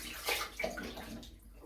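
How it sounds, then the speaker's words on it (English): Cold water from a bathroom basin is splashed onto a freshly shaved face in a few quick, close sloshes and drips, fairly quiet, with no talking. "I'm just going to go for the cold water splash."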